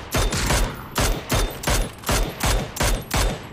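Repeated gunfire bursts from a PUBG match, about seven loud, rapid volleys spaced roughly half a second apart, each a dense crackle of shots with no talking over them.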